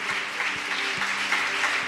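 A church congregation applauds during worship, a dense, loud burst of many hands clapping steadily, with faint low tones beneath.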